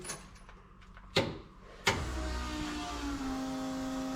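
An electric fuel pump in a custom MX3 car whirs on after switch-on, a steady hum following two sharp clicks, continuing evenly at moderate level with no talk.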